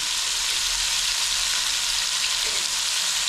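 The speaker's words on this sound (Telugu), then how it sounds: "ఉల్లిపాయ కలర్ వచ్చేదాకా వేగలం. ఉల్లిపాయలు కొంచెం ఉప్పు వేసుకుందాం." Onions frying with salt in oil for village-style mutton biryani, a loud, dense, continuous hiss of sizzling close up with no other sounds.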